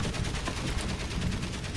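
Gunfire in Valiant Hearts: The Great War, a dense, rapid, machine-gun-like rattle of shots that stays loud and continuous throughout, with no voices.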